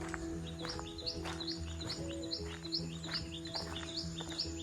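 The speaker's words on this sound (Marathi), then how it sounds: "मस्त पक्ष्यांचा आवाज पण सुरुवात झाला" Several birds chirp and tweet in quick, overlapping calls against a low background hum in a rainy-season Konkan village, fairly close and lively throughout.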